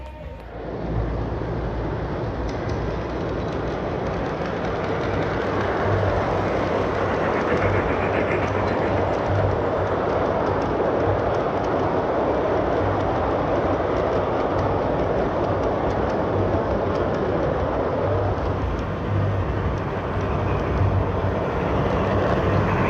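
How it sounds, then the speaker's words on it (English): Garden-scale model trains running on an outdoor layout at the Skagit Fair, a steady rumbling, clattering rail noise that holds loud and continuous throughout, with no talking. "We're going to be running trains."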